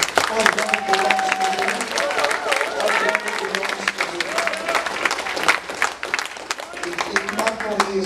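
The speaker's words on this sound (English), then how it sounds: "let's give the Lord a clap offering" A church congregation claps together in a sustained round of applause during a Sunday morning service, a dense, steady patter that fills the room with voices mixed in.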